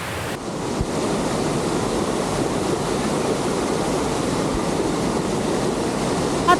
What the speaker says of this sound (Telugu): మొత్తానికి పోచారం డ్యాము వాటర్ ఇదంతా డ్యాములకేంచి నీళ్లు మత్తెడ దుంకింది.